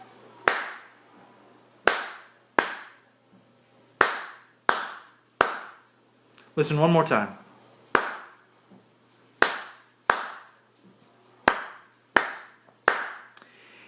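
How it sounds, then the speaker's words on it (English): Sharp hand claps repeat in an even beat with brief pauses, forming a simple rhythm twice over, close and crisp, with a voice briefly speaking between the two passes. "If I were to clap this rhythm, it would sound like this."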